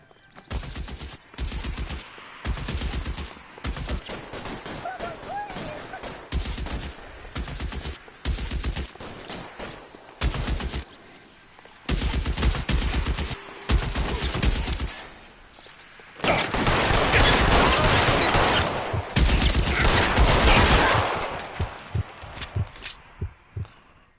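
Gunfire in a video game firefight: dense bursts of automatic fire and rapid volleys of shots crack in repeated clusters, with a sustained heavy barrage in the later part, loud and close throughout.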